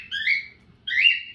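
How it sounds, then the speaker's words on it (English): Pet cockatiels give two bright, whistling chirps separated by a short pause, close and clear over faint low background noise. "you hear my cockatiels chirping away"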